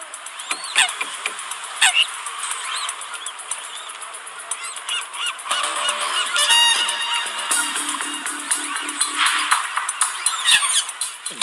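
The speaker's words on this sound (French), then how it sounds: "Les goélands ne sont plus très loin." Gulls call repeatedly in the wild, a dense chorus of loud, close squawks and honking cries overlapping in irregular bursts with no talk.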